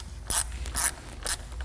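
Screws being undone on the ignition coil cover of a Honda Integra, three short, close metallic ratcheting bursts with quiet gaps between them and no talking.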